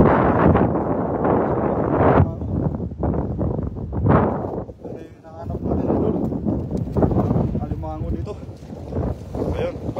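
Heavy wind buffets the microphone in loud, continuous rumbling gusts on a riverside at night, with a voice talking underneath at times.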